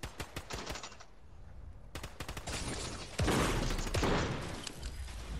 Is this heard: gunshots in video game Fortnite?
yes